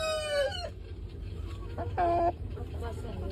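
A chicken gives a couple of short, close vocal bursts with pauses and background noise between them.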